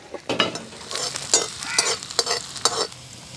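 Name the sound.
onions and curry leaves sizzling in hot oil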